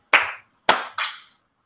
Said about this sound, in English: And we are clapping in 3,